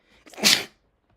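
A single sharp sneeze, close and loud, with a brief intake of breath before the burst, then silence.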